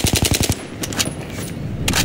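AUG A3 rifle gunfire in Battlefield 3: a rapid burst of about six close, loud shots, then a few scattered single shots over a lingering rumble.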